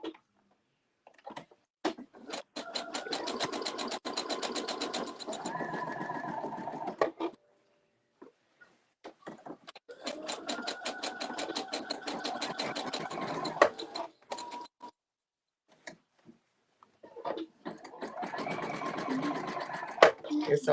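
A sewing machine runs zigzag stitches along a fringe skirt in three rapid, clattering bursts separated by short pauses, close and clear, with a voice talking at moments between runs.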